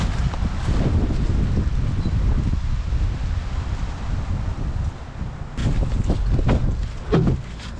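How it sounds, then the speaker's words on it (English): Strong wind blows steadily across an outdoor vegetable garden, roaring and buffeting close to the microphone without letup, with a few brief rustling bursts toward the end. "It's windy out here today."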